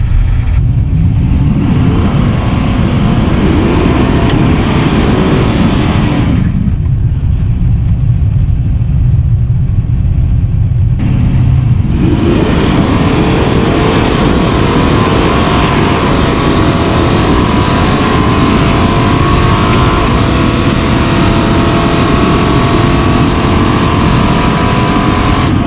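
LS-swapped Chevrolet S10 pickup racing on a nitrous shot, its V8 roaring loud and close at full throttle, with a brief drop as it shifts before pulling hard again through a long sustained run, no talking.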